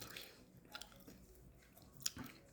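Someone chews tortilla chips that have gone soft: quiet, close, irregular mastication with a few faint crunchy snaps, no talking.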